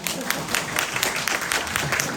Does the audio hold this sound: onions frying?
no